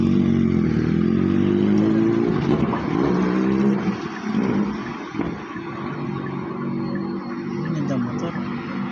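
A motorcycle roars nearby and fades as it moves past, its engine pitch dropping, followed by quieter traffic and street background noise.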